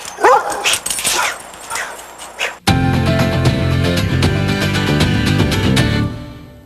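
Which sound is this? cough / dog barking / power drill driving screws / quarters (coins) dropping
dog barking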